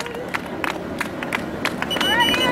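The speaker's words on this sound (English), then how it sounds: "I hear his cheering section back here" Spectators cheer and clap near a race finish line, with scattered shouts and whistles over steady background murmur.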